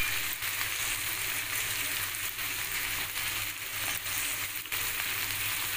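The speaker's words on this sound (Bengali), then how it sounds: "পেঁয়াজের সাথে আমি দেব এই টুকরো করে রাখা আলু আর কুমড়ো, যেগুলো পেঁয়াজের সাথে হালকা করে একটু ফ্রাই করতে হবে" Potato and pumpkin pieces frying with onion in a pan make a continuous close sizzle with light stirring noises throughout.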